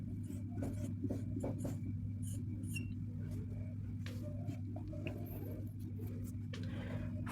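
Pen scratching across paper while a teacher writes notes by hand during a Class 12 maths lesson on matrix adjoints: a run of short strokes and taps over a steady hum, with no voices.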